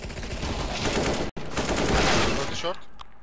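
Rapid automatic gunfire rattles through a video game shooter, a dense sustained burst broken by one brief gap, then trailing off, with players' voices mixed in.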